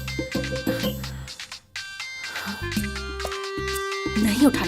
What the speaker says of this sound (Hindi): इसका फोन क्यों आ रहा है?